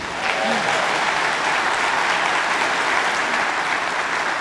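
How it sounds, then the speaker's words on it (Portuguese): A church congregation claps in loud, sustained applause for Leandro, a dense continuous roar of hands with a brief voice audible near the start. "Dê uma salva de palmas para o Leandro."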